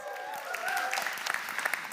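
An audience at a lecture on doughnut economics breaks into steady, close applause mixed with some cheering voices.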